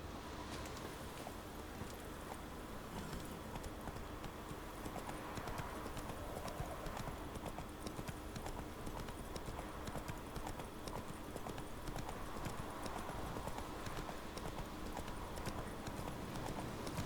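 Steady galloping hoofbeats from the horse Roach in The Witcher 3: Wild Hunt, a continuous rapid clip-clop over dense game ambience and music, loud and sustained throughout.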